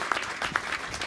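A short burst of crowd applause at a school yagyashala inauguration ceremony in India, many hands clapping at once, fairly distant and moderate in volume.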